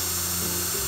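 A high-pitched drill whines steadily for a moment as it bores through corner sheets of a metal garden shed, its motor pitch shifting slightly near the end, close and loud.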